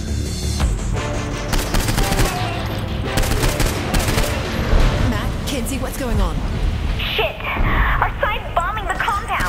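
Automatic gunfire in the video game Saints Row 4 rattles in dense, continuous bursts, loud and close, while someone talks over it throughout.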